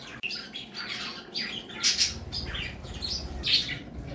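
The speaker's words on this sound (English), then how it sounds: "And there's the 2 Sierra parakeets." Two Sierra parakeets give repeated harsh squawks and chirps in bursts, fairly close and moderately loud, with no talking.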